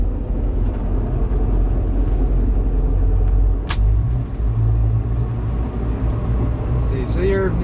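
A 1998 Striper 2150 WA boat's engine idles with a steady low rumble while shifted into reverse during a water test, running loud and close throughout.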